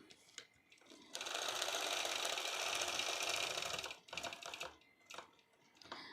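A home sewing machine stitching fabric runs in one steady loud burst of rapid needle clatter for about three seconds, framed by short starts and stops, with no talking.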